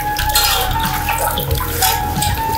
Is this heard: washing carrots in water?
yes